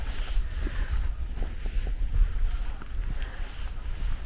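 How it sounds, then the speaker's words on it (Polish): Steady outdoor wind rumbling and buffeting the microphone, a continuous low roar with slight gusts and no clear speech. "Trochę wieje, mam nadzieję, że będzie słychać."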